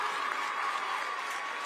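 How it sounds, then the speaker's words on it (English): Spectators at a high school football game in New Madison, Ohio cheer and clap in a continuous, loud roar that stays even from start to finish, with no speech over it. "Listen to the crowd in New Madison."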